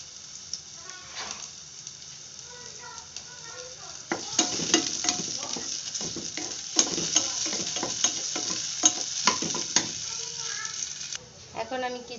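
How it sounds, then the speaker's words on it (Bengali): Onions frying in plenty of oil in a pan as greens are cooked, a steady sizzle that swells louder midway, with repeated scraping stirs knocking through it, close and continuous. "পেঁয়াজটা যখন একদম ভাজা ভাজা করে আসবে"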